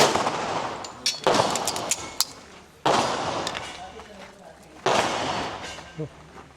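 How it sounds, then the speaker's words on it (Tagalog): Repeated loud gunshots from an ARMSCOR TAC Ultra .45 pistol ring out in sharp bursts with echoing tails, some in quick succession, over a busy, noisy background. "Good shot."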